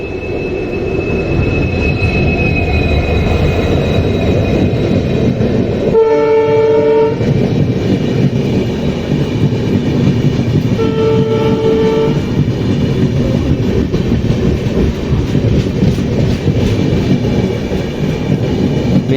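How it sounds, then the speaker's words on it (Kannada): A Yesvantpur–Murudeshwar express train, likely diesel-hauled, rumbles past nearby with a steady loud roar and wheel clatter, while its horn sounds two distinct blasts, one longer and one shorter, partway through. "ಮೇ ಬಿ ಇದು ಯಶವಂತಪುರ ಮುರುಡೇಶ್ವರ ಇರ್ಬೇಕು ರೀ"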